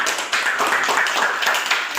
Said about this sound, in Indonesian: tepuk tangan dulu untuk kelompok 2 ya